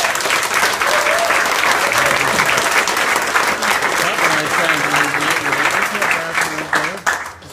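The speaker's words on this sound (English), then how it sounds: "So let's give him a round of applause." Sustained, loud crowd applause fills a political rally in Ottawa, a dense steady wash of clapping with cheering voices mixed in throughout, tapering slightly near the end.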